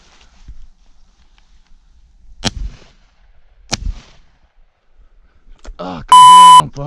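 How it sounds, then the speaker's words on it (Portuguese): Two sharp gunshots fired at a pigeon during a thrush hunt in Portugal, spaced about a second apart, followed by a loud electronic beep; people talk between them. "Vamos lá fazer aqui mal um tirinho a um pombo."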